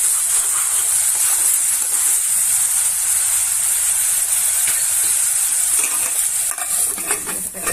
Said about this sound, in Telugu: ఉల్లిపాయ ఇది కొంచెం పచ్చి వాసన పోయేదాకా ఫ్రై చేసుకోవాలి